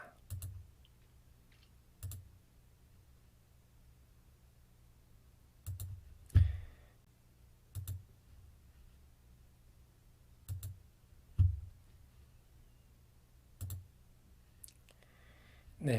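Mouse clicks in Abaqus software, sparse and sharp single clicks spaced irregularly over a quiet, low room hum, faint and close with no talk.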